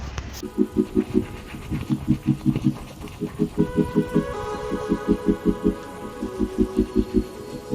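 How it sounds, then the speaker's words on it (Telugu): A toothbrush scrubs teeth during a morning routine, with quick, evenly repeated strokes in short rhythmic runs, close and steady, over faint background tones. "ఇక్కడ నేను బ్రష్ చేస్తున్నాను."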